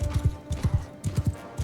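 Horse hooves clip-clop in quick groups of three on firm ground during a mounted battle in Mount & Blade II Bannerlord, close and distinct, repeating in a galloping rhythm with no voices.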